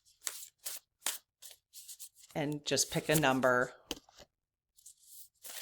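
Playing cards are shuffled in a series of short, crisp riffling bursts near the mic, broken by a stretch where a person speaks over them.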